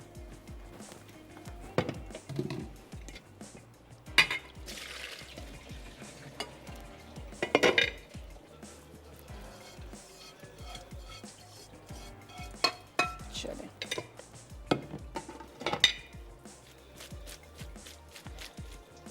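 Soaked rice noodles for a Singaporean dish are lifted and strained through a strainer, close clattering, scraping and clinking in bursts against a quiet kitchen background, no talking.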